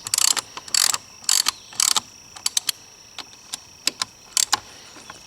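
Bolts on 2-inch handlebar risers of a Honda Africa Twin CRF1000L being snugged down with a ratchet, giving several short bursts of close, crisp clicking separated by brief pauses.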